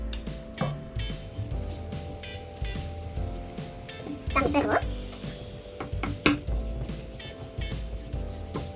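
Kalguksu noodle dough made from flour and salt, kneaded and rolled by hand on a floured surface, gives steady soft slapping and rubbing strokes close up, with a burst of sharper clatter partway through.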